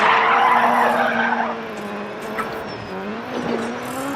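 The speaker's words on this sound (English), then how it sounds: "Handbrake turn here." Subaru Impreza WRC2001 rally car in DiRT 4 doing a handbrake turn: a loud tire squeal and skid over the revving engine that eases off as the car slides through.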